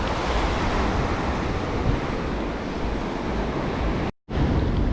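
Ocean surf on a beach, a loud, continuous broadband wash mixed with wind buffeting on the microphone, briefly cut off near the end.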